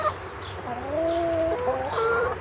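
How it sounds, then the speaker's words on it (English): Chickens clucking and calling close by while foraging for bugs among fallen leaves: several drawn-out, wavering calls and short clucks overlapping in quick succession, loud and alone without any talking. "Here's some crazy chickens."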